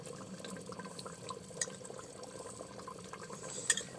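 A flour-and-water slurry is poured into thin mutton gravy in a clay pot over a raised flame, giving a soft, steady liquid pour and gentle bubbling at low level, with a couple of faint clinks.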